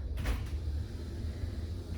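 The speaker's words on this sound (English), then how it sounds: "Has a nice swivel door out." A swivel glass shower door in a cruise ship cabin bathroom swings on its hinge, one brief soft knock and slide early on, followed by a low steady hum of ship ventilation.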